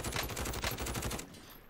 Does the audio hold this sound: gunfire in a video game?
yes